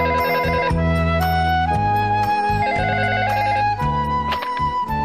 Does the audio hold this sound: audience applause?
no